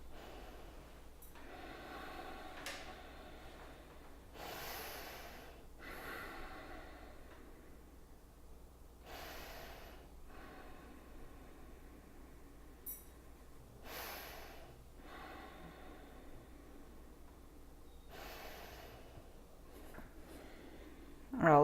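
Slow, deep breaths during morning yoga come in long, evenly spaced inhales and exhales, soft and close, with quiet pauses between them.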